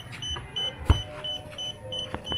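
A DJI Spark drone controller beeps in a short repeating pattern of thin tones while connecting, with a soft thump and faint background noise.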